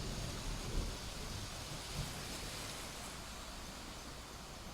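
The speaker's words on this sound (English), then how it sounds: "the thunderstorm is definitely there" Steady thunderstorm ambience from a relaxation sound app, a continuous wash of rain with faint low rumbles of thunder, even and unbroken throughout.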